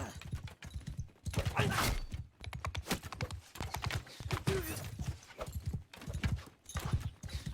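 Rapid horse hooves gallop in the Mount and Blade Bannerlord video game, a steady drumming clatter of repeated hoofbeats heard close and loud throughout, with no pauses.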